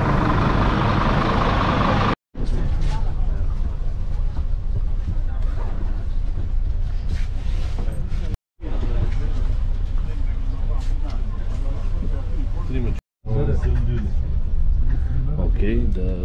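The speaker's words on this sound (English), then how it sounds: "This is our bus for Marbella." A bus bound for Marbella idles at a busy stop, its steady low engine rumble running through the whole stretch, with people talking nearby and a few brief cuts in the sound.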